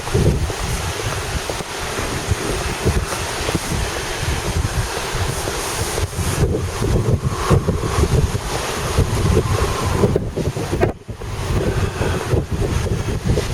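Northwest wind blows hard across an open beach at low tide, buffeting the microphone with steady roaring gusts over the wash of surf, with no voices.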